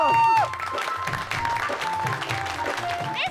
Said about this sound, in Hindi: तालियां तो